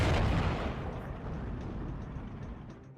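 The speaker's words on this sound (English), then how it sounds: "the T-34 manages to fire at the Panzer Grenadier on the side of the other plateau" A T-34 tank gun fires in the World War II strategy game Steel Division 2: one loud, close boom that rolls off into a long, fading rumble.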